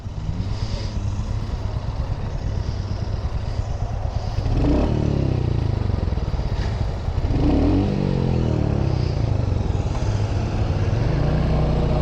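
Motorcycle engine on a throttle-responsive test ride at a Kickstands & Coffee event, a steady loud drone with throttle swells and revving rising around the middle and again later, with wind and road clatter throughout.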